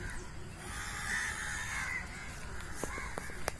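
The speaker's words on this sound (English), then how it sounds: "with the crows crowing away to glory" Crows cawing near a beach in Goa in the early morning, a few harsh calls at moderate distance over a soft, steady outdoor background hiss, with sharper ticks near the end.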